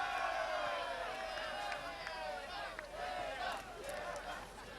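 A large crowd cheers and shouts at a girls' Division I championship soccer game, a dense, sustained roar of voices with rising whoops, steady and fairly loud beneath a commentator's talk.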